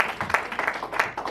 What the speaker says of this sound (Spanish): Den un aplauso fuerte a esta palabra de Dios.